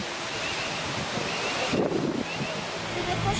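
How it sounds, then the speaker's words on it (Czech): Wind blows outdoors in a continuous broadband rush with a brief louder gust partway through. "A to je větr."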